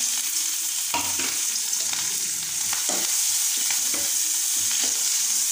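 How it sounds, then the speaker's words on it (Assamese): Onions fry in a pan until reddish for potato chops, a steady sizzle broken by repeated scraping and stirring clatter close by, with no talking. "মই এতিয়া ৰঙা হোৱালৈকে পিঁয়াজখিনি ভাজিলোঁ"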